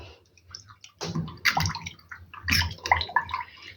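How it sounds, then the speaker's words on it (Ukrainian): Diluted plant treatment solution, about 2 ml of product in half a litre of water, is stirred and poured into a garden sprayer, with soft liquid swishing and splashing that builds in two louder bursts. "гарно розмішую, вливаю в оприскувач."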